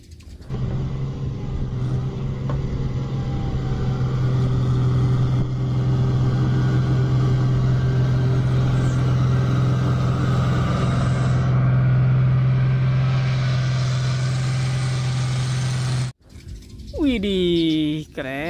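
A road roller's diesel engine idling nearby, a steady loud low hum with a constant tonal drone for about sixteen seconds before cutting off abruptly, followed by a short burst of a sweeping toy-like or electronic sound; people talk over it.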